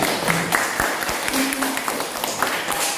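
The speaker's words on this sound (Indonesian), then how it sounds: "tepuk tangan untuk semua" A roomful of people clapping, dense and steady, with a few voices mixed in.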